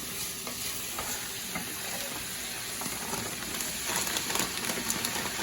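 Creamed spinach from two bags cooks in a pan, giving a steady low sizzle and frying hiss with soft stirring scrapes, rising a little louder near the end, with no one talking.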